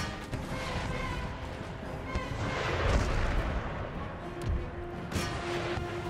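Howitzer artillery fires in the Empire Total War battle, heavy booms and crashing impacts layered over a dense battlefield din, with someone talking underneath.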